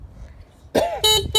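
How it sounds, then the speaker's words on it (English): A small horn on a 2016 Yamaha Grizzly ATV honks three times in quick succession, loud and close, the first blast bending in pitch, after a moment of quiet background. "honk the little horn"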